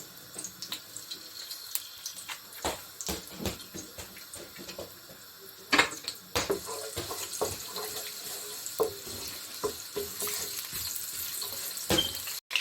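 About three cloves of garlic fry in roughly half a cup of oil while being made into chicken vegetable spaghetti. A soft sizzle runs underneath, broken by scattered clatters and scrapes of the utensil, with one louder clank partway through.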